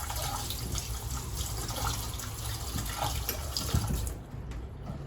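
Water pours steadily from a polished chrome kitchen faucet into a sink, a continuous splashing rush that drops off near the end, leaving quieter dripping.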